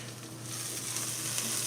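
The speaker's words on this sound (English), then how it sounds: "I'm gonna give our carrots and onions a little stir." Carrots and onions sizzle softly in a roasting pan over low heat as they are stirred, a faint, steady crackling hiss that lasts a moment with no talk.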